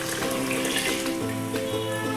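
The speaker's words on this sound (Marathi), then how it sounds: "आपण त्यामध्ये हे पाणी घालून घ्यायचं आहे." Leftover vegetable cooking water poured into a pressure cooker sitting on a gas stove, a continuous close splashing, gurgling stream with no talking.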